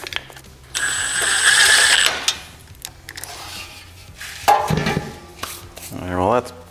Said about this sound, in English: Now I'll bolt it back on.